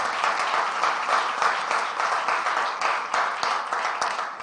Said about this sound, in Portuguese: Você pode aplaudir ao Senhor, meu irmão, por essa palavra?